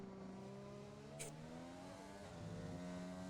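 A Formula race car engine in a racing video game on a hot lap at the Brazil circuit, with a steady high whine that climbs and shifts in pitch through the gears, continuous and fairly faint.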